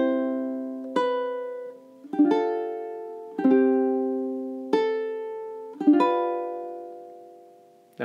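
Fingerstyle ukulele playing a slow phrase from The First Noel: distinct plucked notes and small chords at a steady gentle pace, each ringing out before the next, close and clean with no voices.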